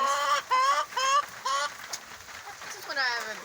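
Chickens in a coop on a rainy evening give a run of loud, close squawks and clucks in quick bursts, then a drawn-out cry, with a person talking in between.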